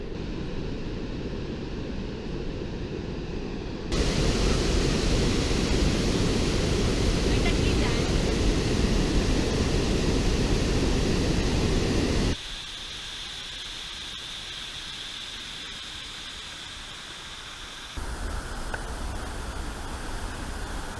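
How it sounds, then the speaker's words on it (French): Huge Iguaçu waterfalls roar as a dense, steady broadband rush, loud and continuous throughout, with the level shifting between sections as the view changes; no voices are heard. "Et on repart de l'autre côté et il y a encore des énormes chutes."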